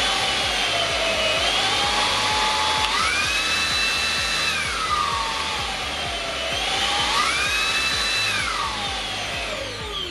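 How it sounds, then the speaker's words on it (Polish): A Xiaomi Dreame XR cordless vacuum cleaner on its lowest power setting gives a close, continuous motor drone whose pitch repeatedly sweeps down and back up as the setting changes, rising and falling twice. No voices are heard. "I teraz jak zmniejszę na jedynkę, to będzie najmniejsza moc."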